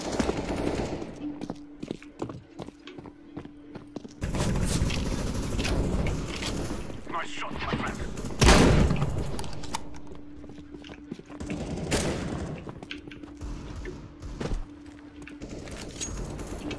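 Shotgun fire in the game CS:GO comes as loud repeated blasts and rapid bursts, with heavy clusters of shots spread across the stretch and a voice talking in between.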